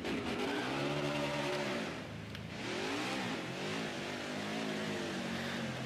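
An Xfinity race car engine at Phoenix in a racing video game drones steadily near the listener. It eases off into a dip around a turn, then climbs back up in pitch, with no talk over it.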